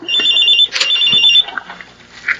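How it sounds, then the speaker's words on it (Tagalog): A mobile phone rings loudly and close by, a bright electronic ringtone tone that sounds clearly for about a second and a half before fading out. "Cellphone ko ay tumatawag."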